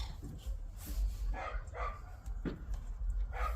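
A small puppy barks and yips outdoors in a few short, scattered bursts, close by and moderately loud, with soft whimpering sounds between them.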